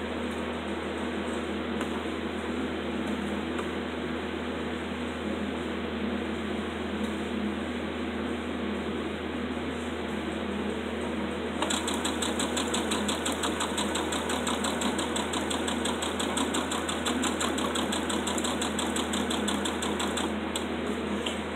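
A sewing machine stitches ribbon across fabric bunting with a steady, close mechanical hum that takes on a faster, rattling stitching rhythm partway through. No one speaks.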